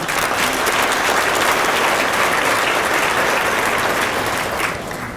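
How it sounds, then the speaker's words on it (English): A conference audience at an education gathering applauds the work in schools, loud, dense and sustained clapping from a large crowd that fades slightly toward the end. "I'd like to give a round of applause for the work in our schools"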